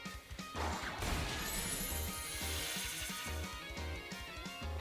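A Hyper Drill attack sound effect in Pokémon Scarlet: drilling, grinding, with a crashing hit and a rhythmic low thumping pulse underneath, dense and continuous.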